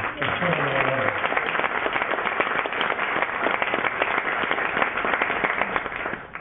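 Applause fills the room at an anniversary luncheon, a dense, steady clapping from many hands that holds throughout, while a voice briefly speaks at the start.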